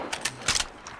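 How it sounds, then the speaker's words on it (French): Brief mechanical clicks and clacks of a weapon being reloaded in Apex Legends, a few quick metallic snaps in under a second. "Je recharge."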